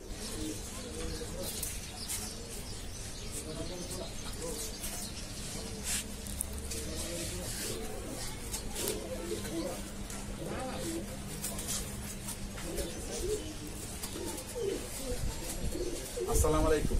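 Pigeons kept at a home loft coo in low, repeated murmurs against a steady, busy background with some voices, continuing throughout at moderate level.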